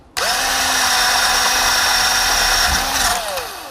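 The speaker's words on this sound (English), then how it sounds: "I'm going to go ahead and drill a quick hole with this." A power drill whines loudly and steadily as it bores a hole, spinning up sharply and then winding down after about three seconds.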